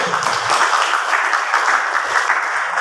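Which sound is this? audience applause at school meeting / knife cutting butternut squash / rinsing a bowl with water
audience applause at school meeting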